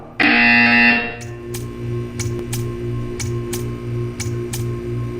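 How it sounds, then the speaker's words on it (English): A loud electronic buzzer sounds for about a second, then stops, followed by a series of sharp clicks over a low humming background, in the video game Portal 2. "You will hear a buzzer"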